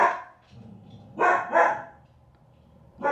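A dog barks in a few sharp bursts indoors, one bark at the start, a close pair in the middle and another at the end, loud and near with quiet gaps between.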